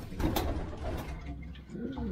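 A Florian pigeon from Canada being handled in a loft, soft low cooing amid rustling and mechanical rattling, close but muffled.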